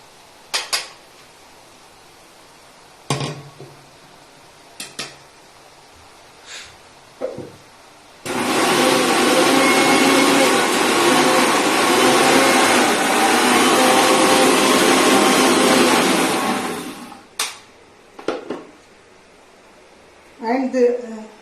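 A mixer grinder whirs loudly and steadily for about nine seconds as it blends coconut, rice, poppy seeds and a little channa into paste. Before and after it, there are brief clatters and kitchen handling noises.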